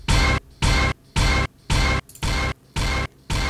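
A delay effect fed back into itself produces harsh, distorted repeating bursts, about seven evenly spaced pulses with short gaps between them, loud and gritty with no voices.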